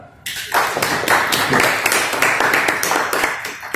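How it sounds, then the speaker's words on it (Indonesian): Audience applause at a seminar on law revision and economic liberalisation in Indonesia. Dense, steady clapping starts suddenly after a brief quiet moment and continues loud and even to the end. "kita beri tepuk tangan"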